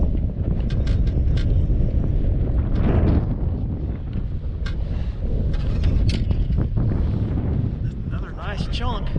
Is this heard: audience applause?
no